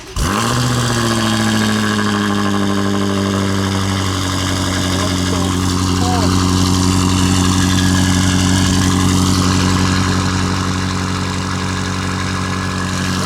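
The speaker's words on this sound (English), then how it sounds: "We're gonna wait for it to idle down" A BMW M5 with catless downpipes and front-mount intakes starts and settles into a loud, steady idle close by, its deep rumble holding even throughout with a slight rise in the middle.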